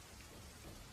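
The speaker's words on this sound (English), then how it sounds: "I wish the rain could last long enough for us to get lost in" Rain falls at night as a steady, faint hiss of drops with no voices present.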